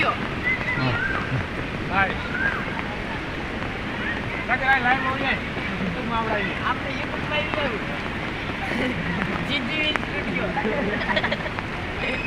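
Heavy rainwater overflows a full main drain, a loud, continuous rushing and splashing wash during a downpour, with people talking over it.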